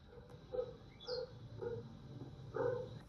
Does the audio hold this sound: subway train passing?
no